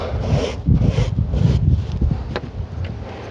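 A stiff metal wire brush scrapes back and forth against carpet in steady, close, rasping strokes, with no voices.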